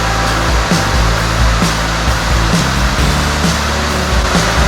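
Broadband roar of Isabella Falls on Endeavour Battlecamp Road, Cape York, pouring over a rock overhang onto a moss garden below, steady and loud throughout with a low rumble underneath.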